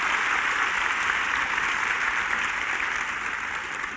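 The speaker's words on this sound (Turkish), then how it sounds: "Zaten alkışlar anlatıyor" Audience applause at a sports-culture panel talk at a brand event, a dense steady wash of clapping from a large crowd sustained throughout, fairly loud and with no voices over it.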